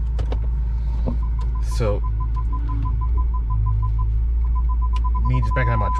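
Turbocharged BMW still warming up, put in gear and backing out of a driveway: a steady low engine rumble and hum, with a repeating tonal chime and a brief spoken word over it.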